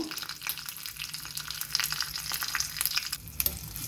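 Mustard seeds and dry chillies sizzle and crackle in hot oil for a tempering to top a chana dal kosambari salad, a dense close hiss with scattered sharp pops growing busier toward the end.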